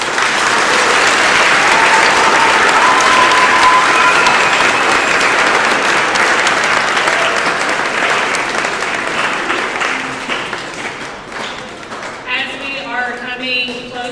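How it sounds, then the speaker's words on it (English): A school audience claps loudly and continuously at a middle school Veterans Day program, then the applause thins out and fades away near the end. "if we can please give a round of applause"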